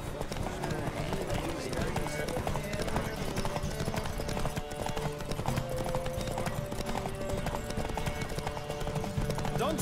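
Galloping horse hooves from The Witcher 3 horse race pound in a fast, continuous clip-clop rhythm, loud and close, with voices speaking over the thundering hoofbeats.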